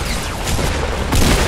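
A bomb blast in Fortnite, a loud broadband boom that rumbles on for over a second with a second burst near the end, heard without talk.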